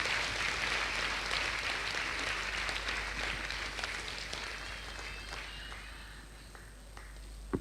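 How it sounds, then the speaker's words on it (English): Broad, steady applause from a convocation audience for graduating medical college students, dense clapping spread evenly across the hall that slowly thins and softens toward the end, with no talking over it. "Let us congratulate the students with a big round of applause once more"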